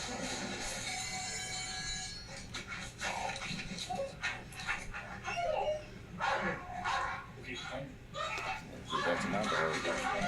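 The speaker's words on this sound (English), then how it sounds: "I hear the dog." A dog barks repeatedly at a distance under people talking, the muffled barks mixed with voices and background noise at low overall volume.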